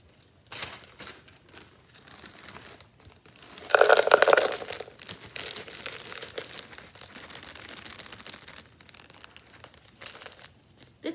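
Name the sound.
soil and gravel dumped from a bag into a clear plastic container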